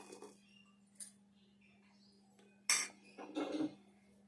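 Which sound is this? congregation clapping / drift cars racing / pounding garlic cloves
pounding garlic cloves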